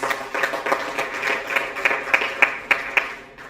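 A round of applause from guests at a regional media launch and networking event, with a scattered crowd clapping and a few louder claps growing into a rhythmic beat before fading.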